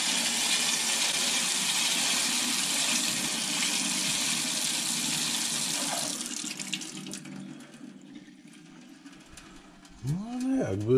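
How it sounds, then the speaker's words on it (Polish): Water gushes steadily from an outdoor tap with a leaky fitting for about seven seconds, then the flow stops, leaving faint trickling and a quiet pause before brief noise at the end. "Jest woda w kranie, tu widać, że tu trzeba uszczelnić ten kran trochę."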